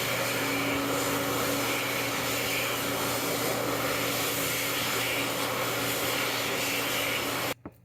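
A Vortex hand dryer runs inside a Sheetz restroom in Natrona Heights, giving a loud, steady whooshing roar with a constant motor hum that carries on unbroken and then cuts off abruptly near the end.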